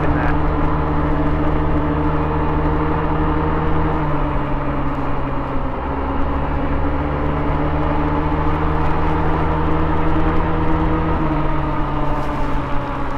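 A Honda Ruckus scooter riding along with a steady, loud droning engine hum that holds constant throughout, with a slight pitch shift midway and no speech.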